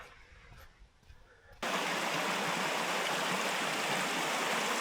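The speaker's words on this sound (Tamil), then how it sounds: "இந்த குட்டி ஓடை ஃபுல்லாக பாறைகள் அப்படியே வலிஞ்சு போகுது." A small stream runs over rocks in the Blue Mountains, Australia, a steady, full rushing and splashing of water that cuts in abruptly after a quieter moment and then holds close and loud.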